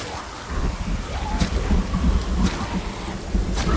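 Heavy rain pounding down outdoors, a loud continuous roar of drops with low rumbling gusts and a few sharp splatters, close and dense with no voices.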